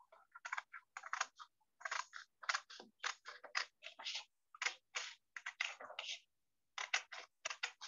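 Paper being cut into squares for origami: a close run of crisp, quick snips and rustles in dense bursts, with short pauses between groups.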